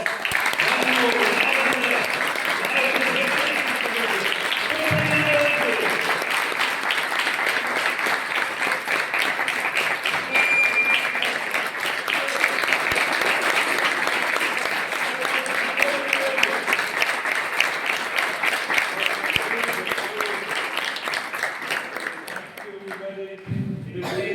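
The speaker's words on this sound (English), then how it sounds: "So one more round of applause." Sustained applause from a literary festival audience, a thick continuous clatter of many hands lasting over twenty seconds, with voices murmuring underneath and a brief louder burst near the end.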